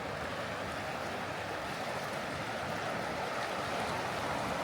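A big river flowing hard beside a forest near Golden, heard as a steady, dense rush of water that stays loud and constant throughout with no voices.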